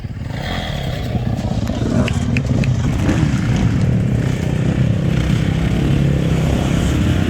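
Motocross bike riding through a corner at a Southwick motocross track, a steady engine drone with clattering and scraping over rough ground, heard at moderate distance and fairly constant throughout.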